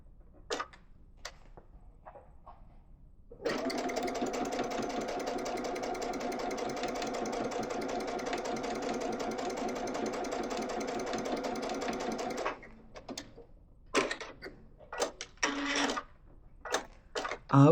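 Sewing machine stitching quilt pieces together for a pinwheel sampler quilt, a steady continuous whir of about nine seconds, close and loud, with light handling clicks and rustles before and after.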